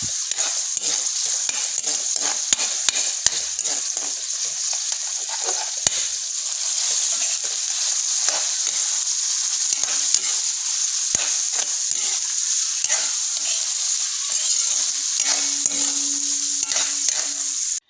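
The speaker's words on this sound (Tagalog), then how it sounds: "So hinahalo-halo ko lang yung ating mga sangkap. Tsaka yung uh, kasama natin haluin yung karne para mas mablend yung lasa." Menudo meat and other ingredients stirred in a sizzling cooking pan, a constant frying hiss with repeated scraping and tapping of a utensil against the pan, close and loud, no talk.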